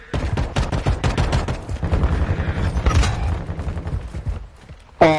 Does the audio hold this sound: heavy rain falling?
no